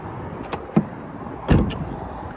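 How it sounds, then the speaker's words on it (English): The heavy rear door of a 2024 Ford Bronco Raptor, weighed down by a mounted 37-inch spare tire, swings shut with a solid, close thud after a few light clicks of the latch. "Close the door. Now this door is kind of heavy because of this 37-inch tire."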